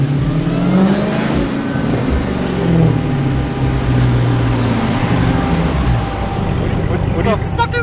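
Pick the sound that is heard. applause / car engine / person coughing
car engine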